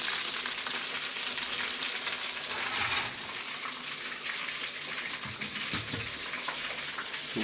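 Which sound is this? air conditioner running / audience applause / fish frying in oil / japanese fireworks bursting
fish frying in oil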